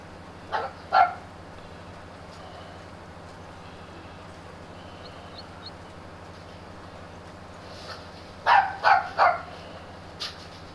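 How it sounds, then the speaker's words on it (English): A dog barks outdoors on a farm at moderate distance: two quick barks at the start, a burst of three or four barks later, and then a single final bark, with a quiet steady hum in the background. "So if you hear barking"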